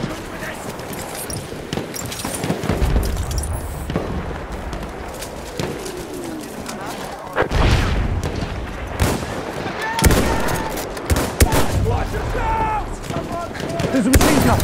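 Bursts of machine-gun fire in a combat video game, loud and sharp, repeating through the clip amid other battle noise, with voices talking over it.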